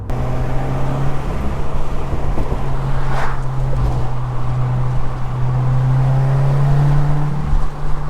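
A 2016 Subaru WRX runs with a newly installed intake, its engine droning steadily and close at a low pitch with a faint rise in tone partway through, wind noise mixed in and no talking.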